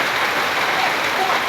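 Steady rain from a cyclone's depression, falling nationwide in Bangladesh, hisses as a dense, even wash of drops close by, with no pauses or other sounds.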